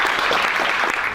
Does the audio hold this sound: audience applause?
yes